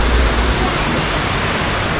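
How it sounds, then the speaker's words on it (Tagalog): Heavy rain during a storm pours down in a loud, dense, steady hiss that fills the whole recording, with no break in it. "Lakas ng ulan."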